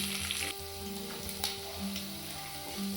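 Whole cumin, fennel seeds, curry leaves and chopped garlic fry in hot oil as they are stirred, a close crackling sizzle broken by occasional spoon scrapes and clinks.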